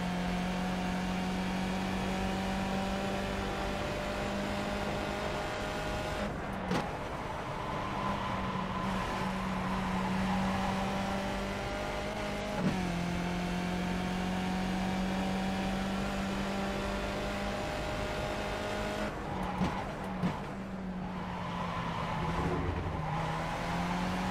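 Skip Barber race car engine in iRacing drones steadily near and loud, pitch climbing through each gear and dropping at shifts, with a few downshift blips and occasional brief bumps, no talking.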